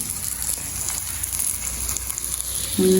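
Ribbonfish sizzling as it fries in hot oil, a steady, dense crackle that holds evenly throughout and swells slightly louder at the very end.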